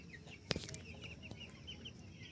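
A few faint clucks and short chirping calls from a broiler rooster, with a sharp knock near the start, quiet and fairly close.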